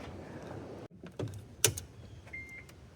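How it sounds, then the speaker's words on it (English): Relays and components click inside a Nissan Leaf as its charger is plugged in, with a few sharp clicks and a louder snap near the middle, then a brief electronic tone, all close and without speech. "When I plug it in, I hear all kinds of stuff clicking everywhere."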